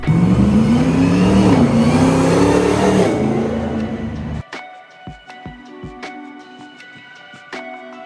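A restored Land Rover Defender 110 with an LT4 640-horsepower engine and 8-speed automatic revs loudly up and down, then cuts off, leaving a few faint knocks and clicks afterward.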